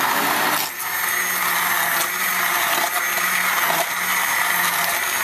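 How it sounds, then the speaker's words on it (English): Hand immersion blender purees tomato sauce in a pot, a steady loud whirring motor drone with brief dips and surges as the blade moves, heard alone without talk. "we're going to use a little hand immersion blender"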